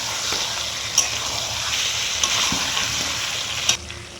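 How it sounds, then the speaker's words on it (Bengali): Fried potatoes stirred with chicken curry in a hot pan, a steady close sizzle with a few sharp scraping clinks of the spoon against the pan. "এবার আমি ভেজে রাখা আলুগুলো দিয়ে মাংসটার সাথে কষিয়ে নেব"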